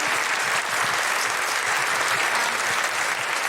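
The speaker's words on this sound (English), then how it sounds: "Big round of applause for Vivana, everybody!" Sustained audience applause at a live comedy show in Adelaide, Australia, for a performer: dense, even clapping that fills the room without a break.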